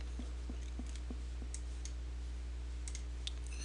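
Mouse clicks while working in 3D modelling software on a grenade model, a handful of small evenly spaced taps close to the microphone over a quiet steady hum, with no talk.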